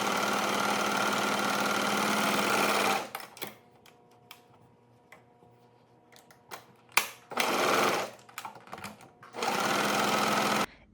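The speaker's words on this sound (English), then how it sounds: "You can just use the zigzag stitch on your sewing machine." Sewing machine zigzag-stitching raw fabric edges on wrap skirt pieces, a loud steady whirring run for about three seconds, then quiet handling clicks, followed by two more bursts of stitching.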